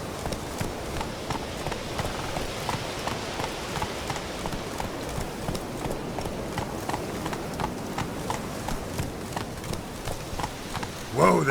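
Roach the horse gallops in The Witcher 3, with a steady, even clip-clop of hooves running close by over a continuous ambient wash of game sound.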